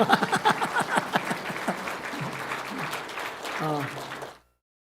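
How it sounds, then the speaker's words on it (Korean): Congregation applause during a Sunday morning church service, a burst of clapping that fades out within a few seconds, with voices talking over it. "이왕이면 박수가 좀 크면 좋을 것 같아요"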